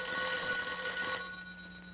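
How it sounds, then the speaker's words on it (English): A telephone rings in a film scene, a bright trilling bell burst that sounds clearly for about a second, then cuts off and leaves quiet room tone. "The phone stopped ringing."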